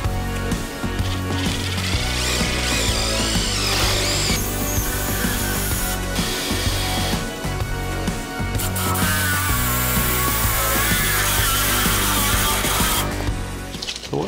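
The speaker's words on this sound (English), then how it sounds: "I have a short stubby drill because I've got a real tight area." Continuous whine of a short stubby power drill running in long bursts in a tight space during a shower and tub faucet installation, pitch rising and falling as it bites, with brief pauses between runs.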